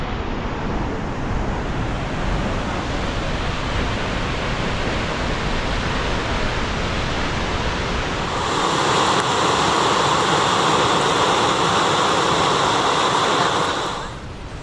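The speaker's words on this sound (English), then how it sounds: "First stop on the way to Jasper is Sparhats Fall, which is pretty spectacular." Spahats Falls in the Canadian Rockies roars as a steady, loud, broadband rush of falling water that stays constant and then grows fuller partway through, with no voices.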